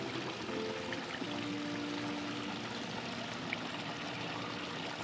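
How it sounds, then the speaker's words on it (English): Steady splashing flow of water pouring from an above-ground pool's homemade filter waterfall, continuous and fairly even, with a faint tonal hum underneath. "And here is the waterfall."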